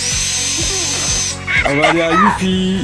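A Buffalo power drill whirs briefly and loudly, its motor buzz giving way to someone speaking French over the tail of the sound.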